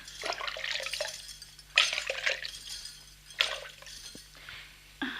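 Water splashes and pours in a few separate bursts, close and fairly clear with quiet gaps between them, part of a Hindi radio play where water is brought to revive a woman who has fainted.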